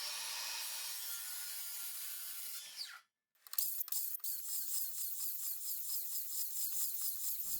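Crosscut handsaw hacking out waste between the lines of a housing joint in wood, a steady run of rasping back-and-forth strokes after a brief pause, close and fairly loud with no talking.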